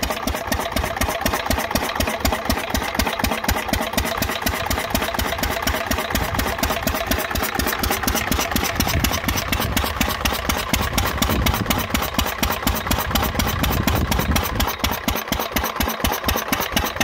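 An old 3 hp Lister CS stationary engine runs at its first start, a steady, rapid, close thumping beat that carries on without a break.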